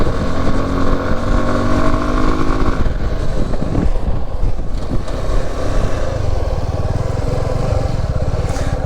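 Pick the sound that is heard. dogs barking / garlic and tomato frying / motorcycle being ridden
motorcycle being ridden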